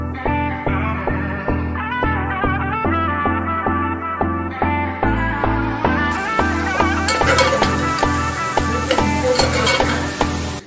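Cloves, black peppercorns, a piece of cinnamon, ginger-garlic paste and green coriander fry in a pan for a Kolhapuri mutton broth. A sizzle swells partway through and keeps going under rhythmic background music.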